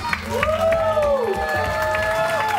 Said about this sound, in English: NACC Sports, big round of applause.